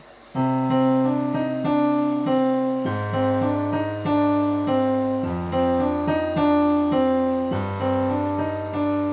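Piano plays a smooth, flowing passage with a steady bass line under a melody, notes connected without breaks, alone and close.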